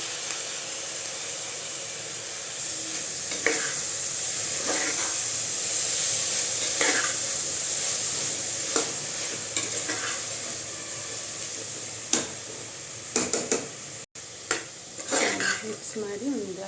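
Salt and chopped tomatoes stirred in a frying pan for avalakki bath, a steady sizzle with repeated scraping and clinking strokes of the spoon against the pan, growing busier toward the end.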